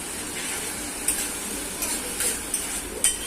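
Curry leaves dropped into hot oil with browned onion, bay leaf and star anise, giving a steady close sizzle with a few brief crackling bursts and light utensil clicks.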